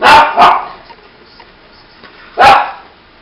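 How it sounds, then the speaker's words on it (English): A dog barks close by: two quick loud barks, a pause, then one more bark, each sharp and alone against a quiet room. "if she hears another dog bark, it's off"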